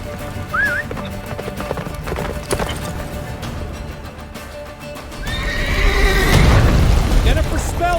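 Roach, a horse in The Witcher 3, gallops with steady clip-clopping hooves and lets out a loud neigh near the end, as the pace and intensity build amid game music and effects while a voice urges her on.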